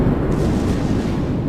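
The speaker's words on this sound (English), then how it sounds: "notice the secondaries are going off" Secondary guns of a Bismarck battleship in World of Warships firing at close range, a dense, continuous rumble of booming blasts overlapping into one heavy, loud roar with no voices.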